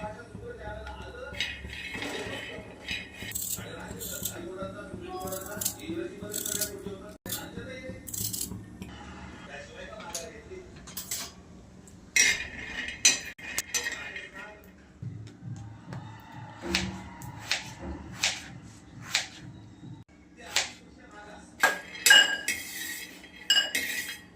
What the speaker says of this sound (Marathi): शेंगदाणे भाजून घेऊयात आपण हे